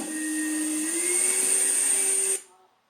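A Hoover vacuum cleaner nicknamed Hetty runs with a steady whining drone whose pitch rises slightly, then cuts off abruptly and winds down to silence.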